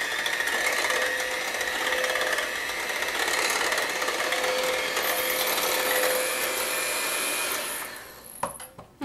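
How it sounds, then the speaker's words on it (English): An electric hand mixer beats two eggs into Irish cream brownie batter, a steady continuous motor whine holding for several seconds before it stops and a few clicks follow. "this is where my mixer will come in handy."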